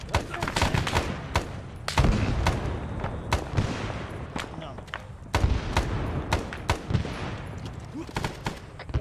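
Gunfire and grenade blasts in the Arma 3 video game, set in Vietnam, with dense rifle shots cracking close by, several heavy booms rolling in, and voices calling out now and then.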